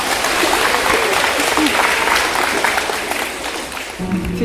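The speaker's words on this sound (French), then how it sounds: "Applaudissez!" A crowd claps at a children's book launch performance, a dense, loud round of applause that swells and then thins, with a voice emerging toward the end.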